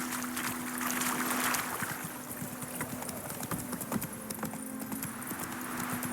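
A horse gallops in the video game Witcher 3, its hoofbeats a steady clip-clop under ambient game sound with a faint tonal hum.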